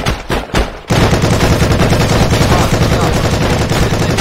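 Gunfire in the Heroes and Generals video game begins with a few separate loud shots, then becomes a dense, continuous automatic burst that fills the rest of the stretch at close range.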